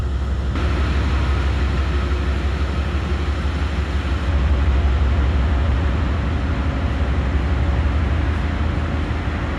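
An Amtrak Pennsylvanian train rumbles at Pittsburgh station, a continuous low, heavy drone with broad noise on top, steady and fairly close throughout.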